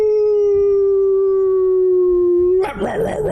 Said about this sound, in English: you guys begin to hear howls off in the distance.